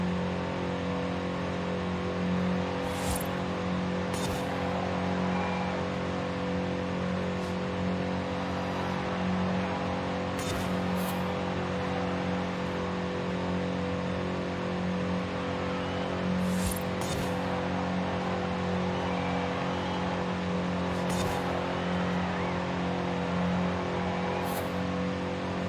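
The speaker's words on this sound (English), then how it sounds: "Approaching rev limiter." The engine of a 1970 Datsun 510 in a Forza Horizon 5 race drones continuously at high revs and holds a steady, close pitch throughout. Faint clicks and brief bursts come through now and then.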